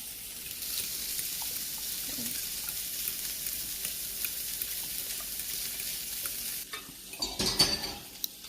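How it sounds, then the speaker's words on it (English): Eggs are scrambled in a frying pan, giving a steady low sizzle throughout, with louder scraping and stirring bursts near the end, close by and without talking. "Now we are going to scramble the eggs"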